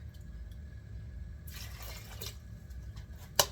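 Water is poured into a pot of brown rice, a short rushing splash that rises after a quiet start and fades within a second or so, ending with a sharp clink of the pot.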